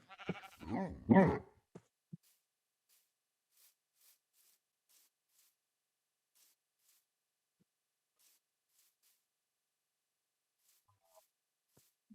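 A sheep bleats in Minecraft as a wolf attacks it: a few short, wavering bleats up close, then near silence broken only by faint, scattered ticks.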